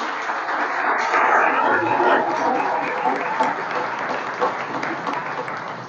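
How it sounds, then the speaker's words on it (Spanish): An audience at a BanEcuador public accountability event applauds the bank's team, a full and fairly loud roomful of clapping that holds steady and slowly tapers off, with a slightly muffled, band-limited tone. "quiero ante todo el día de hoy pedirles un aplauso para ese equipo fabuloso de Banco Ecuador"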